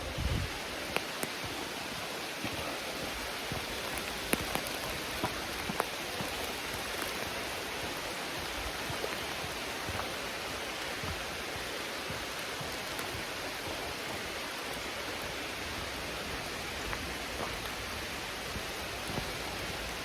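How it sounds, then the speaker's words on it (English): Heavy rain pours steadily on a forest trail in Panther Creek State Park, a dense continuous hiss of drops with occasional louder patters nearby. "That rain's really starting to pour now."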